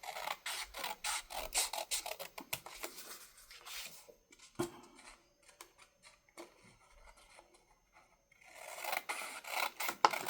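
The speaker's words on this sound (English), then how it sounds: "I'm going to trim this white off the edge." A paper trimmer cuts a strip of white paper off the edge of a card, with a run of rasping strokes and clicks, a quieter stretch of faint handling, then another burst of trimming.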